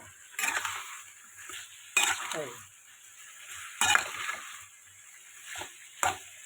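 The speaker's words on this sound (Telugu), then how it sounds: "ఇదండి టమాటాలు ఉడుకుతున్నాయి కదా" Tomatoes and soy chunks (meal maker) cooking in a pan, a low simmering hiss broken by four sharp metallic spoon scrapes and clinks against the pan, with a voice speaking between them.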